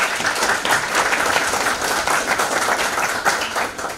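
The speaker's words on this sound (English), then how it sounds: "let's thank all the panelists and give them a round of applause" Audience applause for a panel of speakers at a global health event, a dense steady wash of many hands clapping close by, filling the whole stretch without a break.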